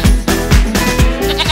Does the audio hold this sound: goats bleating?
yes